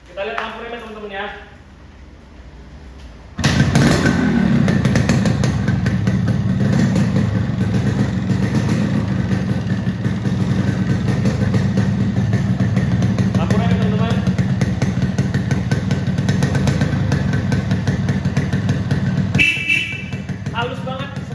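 A 2004 Yamaha RX-King motorcycle engine idles steadily and smoothly, starting abruptly after a brief voice and running at an even, close rumble.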